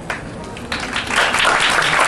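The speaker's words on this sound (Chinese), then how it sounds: "所以请大家的鼓励掌声。" An audience at a health lecture breaks into applause, sparse claps at first swelling into a dense, loud burst of clapping.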